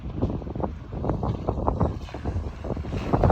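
Strong wind buffets the microphone throughout, a steady low roar with gusty bursts and no voices.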